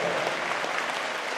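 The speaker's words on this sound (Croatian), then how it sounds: "kad nemaš tremu, onda zaslužuješ jedan gromoglasni pljesak" Applause from an audience at a 2016 folk music showcase: dense, steady clapping that fills the whole short stretch at an even, moderate loudness, with no voices over it.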